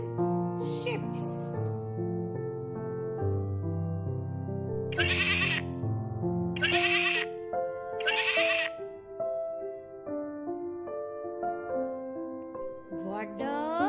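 Goats and sheep bleat in a series of loud, wavering calls, several separate bleats spaced out over the span, with a few brief bursts of noise between them.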